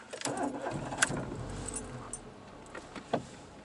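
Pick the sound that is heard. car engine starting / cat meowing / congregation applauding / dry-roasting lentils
car engine starting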